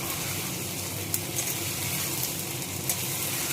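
Steady hiss of a chili frying in hot oil alongside fish in a pan, a continuous close sizzle with no talk.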